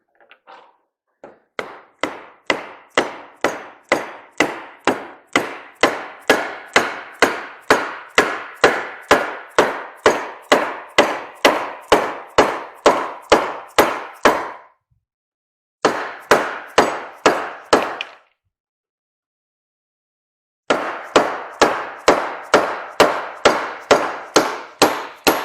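Repeated sharp metallic hammer blows drive a frozen ball joint into a Ranger EV suspension, struck in steady rhythmic runs of about two per second with two brief pauses, close and loud.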